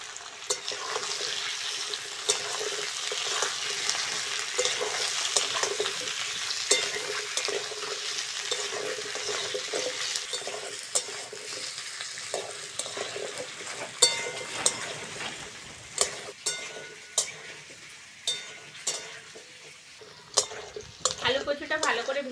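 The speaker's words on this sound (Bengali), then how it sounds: "আলু কচুটা ভালো করে ভেজে নিয়েছি" Potato and taro chunks fry with onions in a pan, a steady broadband sizzle with repeated stirring scrapes and clinks growing more distinct toward the end, close and fairly loud, no voices.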